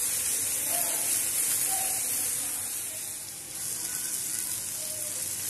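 Onions with ginger-garlic paste and spices frying in a pan, a steady bright sizzling hiss, close and fairly loud, dipping briefly and then returning, with no voices over it.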